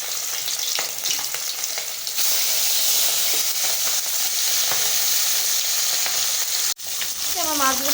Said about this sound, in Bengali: ভালোই তেল ছিটছে আর কি